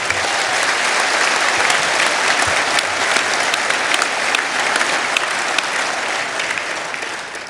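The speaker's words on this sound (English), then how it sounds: "And for that, you deserve a round of applause." Sustained, loud applause from a large audience at a Brexit Party rally, dense clapping that holds steady for several seconds before easing slightly at the end, with no speech over it.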